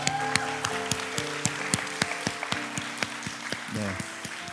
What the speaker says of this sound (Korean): 우리 하나님께 영광 박수 올립니다